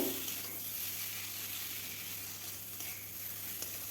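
Pointed gourd (potol) frying in oil for fennel-spiced mouri potol: a continuous close, even sizzle and hiss over a low steady hum, with a faint stir near the end.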